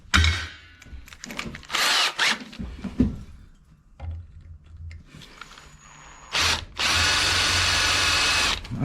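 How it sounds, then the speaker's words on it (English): Bursts of a power drill whirring in short and long pulls on a chopper motorcycle build, louder and sustained near the end, with quiet gaps and clunks between runs. "I'll tell you what I need is some more drill bits."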